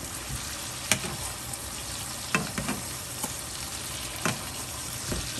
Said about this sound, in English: I'm going to baste it again.